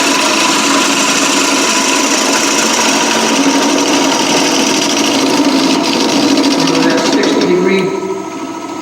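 A woodturning tool cuts on a lathe, riding the bevel down the wall of the piece: a loud, steady, close machine whine and drone runs throughout, dropping off slightly at the very end.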